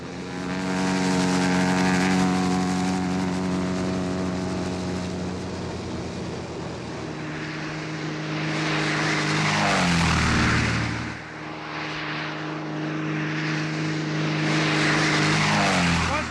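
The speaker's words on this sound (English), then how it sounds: "That's Terry's plane. It's the only place to land, the road." Terry's propeller plane flies in and lands on a road near a mining zone, a loud sustained engine drone with shifting pitch that swells, dips and surges again as it passes close by.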